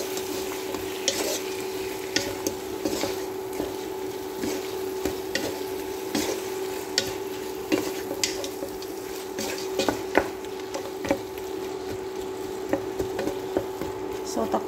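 Food with tomato frying in a pan, a constant sizzle under repeated scraping and clinking strokes of a stirring utensil, close and moderately loud.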